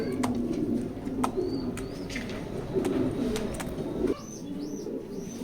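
A racing pigeon coos with soft, low throaty murmurs in a loft, with other birds chirping and a brief flutter of wings, the cooing steady in the foreground then dropping away near the end as higher calls continue.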